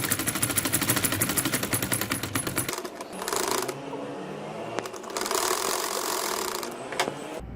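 Stitching a baby boy's shirt, a sewing machine rattles rapidly and loudly at close range, cuts off, then resumes in a second, slightly softer burst amid a few mechanical clicks.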